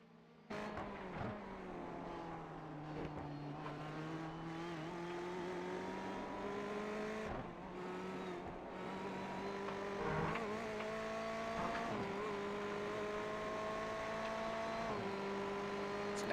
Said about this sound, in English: So now that big pack of GTE cars now making their way through the S's